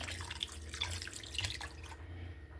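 Water runs and splashes steadily as vinegar and water rinse raw lamb meat in a kitchen sink, a close, continuous trickle with small drips and splashes over a low background hum.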